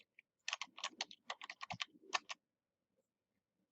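A password is typed on a computer keyboard while joining a computer to a domain: a quick, close run of crisp keystrokes in uneven bursts, with no voices, ending in quiet.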